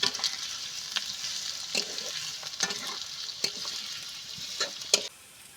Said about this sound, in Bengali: পেঁয়াজ আর রসুনটা ভালো করে আমি ভেজে নেব